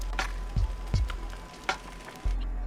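Fried rice being stir-fried in a pan, heard as a steady sizzle with sharp scraping and clanking strokes of a utensil, several of them at an irregular pace, close up and without talk.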